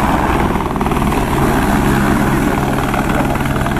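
Rescue helicopter Arcanjo 03 maneuvering over the town of Presidente Getúlio, its rotor beating steadily and loudly throughout with a continuous engine drone, close and with no talk.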